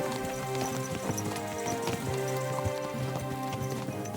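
Horse hooves clip-clop steadily on the ground in the medieval game Kingdom Come: Deliverance II, a continuous walking rhythm, with layered ambient game sound and no talk.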